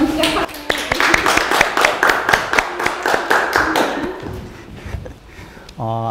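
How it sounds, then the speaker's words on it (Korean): A lecture audience claps to encourage a center director before a talk at a university forum: a few seconds of close, uneven hand claps that fade out, then a voice begins speaking. "강연 잘 하시라는 의미로 박수 한번 시작할게요"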